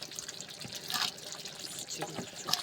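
Thick homemade tomato and pepper paste bubbling as it boils down in a pot, with soft wet pops and spatters bursting through a steady low simmer, a few louder splashes close by.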